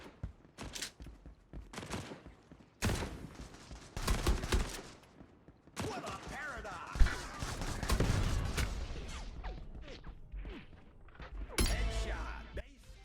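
Gunfire in the time-loop arena shooter Quantum League comes in repeated sharp bursts and rapid volleys, separated by short pauses and layered into dense stretches of shooting, with occasional talk.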